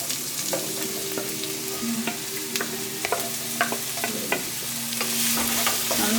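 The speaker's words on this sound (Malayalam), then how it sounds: "നമ്മളെടുത്ത് വെച്ച ഉള്ളി, സവാള, പച്ചമുളക് അരിഞ്ഞാണിത് ഇട്ട് കൊടുക്കാം" Chopped shallots, onions and green chillies sizzle in a pan over ginger and garlic for a mirchi chicken roast, a steady close frying hiss broken by occasional scraping stirs of a spoon.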